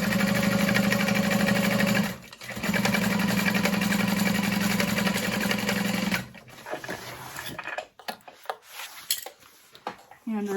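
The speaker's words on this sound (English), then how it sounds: "I'm going to fold that up and top stitch through the exterior fabric." A sewing machine topstitches through bag exterior fabric in a fast, steady mechanical whir, runs for two bursts separated by a brief pause, then stops, followed by quieter handling clicks and rustles.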